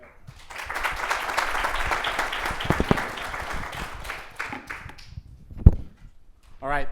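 Audience at a Wharton social impact event applauds to welcome a panel, a full, steady round of clapping that tapers off, followed by a few thumps and a voice starting to speak.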